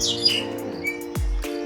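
A talking myna bird gives a few bright, close chirps and whistles, then a short lower tonal call, with no talking over it.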